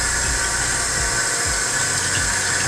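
Saltfish being washed under a running tap, heard as a loud, steady rush of flowing water close by with faint low thumps and no talking.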